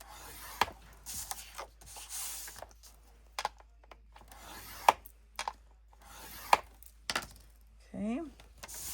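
Cardstock for a mini album is scored along a fold line, giving a few short, quiet scraping strokes separated by pauses in an otherwise hushed room.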